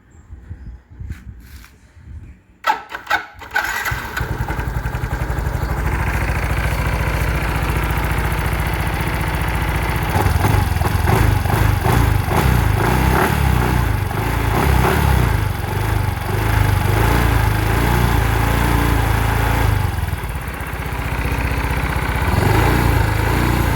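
A Mio i 125 scooter engine with an upgraded 28mm throttle body cranks with a few sputters, then fires and settles into a loud, close, steady idle with slight rises in engine speed and rattling vibration.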